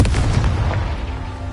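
The Confringo spell explodes in the Hogwarts Legacy video game, a loud, dense boom that rumbles on for the whole brief moment.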